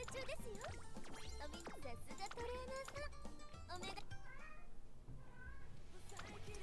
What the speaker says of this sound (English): I'm sorry if you hear my cats in the background.